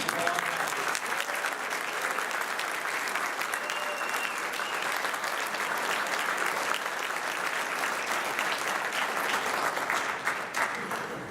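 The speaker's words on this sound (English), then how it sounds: "Please join me in another round of applause." Sustained audience applause at a 2019 class graduation ceremony, a dense, even wash of many hands clapping that carries on without a break for over ten seconds.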